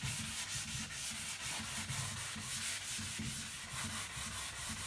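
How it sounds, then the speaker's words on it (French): Steady back-and-forth sanding of painted wood with fine-grit sandpaper, a continuous rhythmic rasping scrape, close and even throughout. "Alors, on peut poncer pour retrouver le bois."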